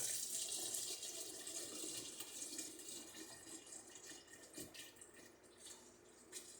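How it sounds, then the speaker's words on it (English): Dissolved sugar syrup, 13.5 cups of sugar, poured over mixed berries into a carboy for homemade wine; a faint, steady liquid stream trickles and splashes throughout, with no voices. "I'm going to pour this straight over the fruit"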